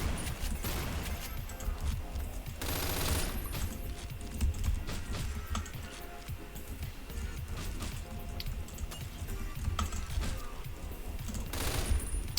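Gunfire in the video game Hotline Miami comes as rapid bursts of shots and impacts over busy, dense game audio, with loud spikes now and then across a continuous background.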